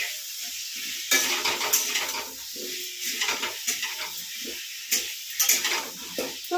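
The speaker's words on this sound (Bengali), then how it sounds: "এই আলুটা ভাজছি" Potatoes sizzle and hiss in a hot pan of oil while being fried for a chicken dish, with intermittent louder bursts of spattering and stirring clatter over a quieter steady crackle.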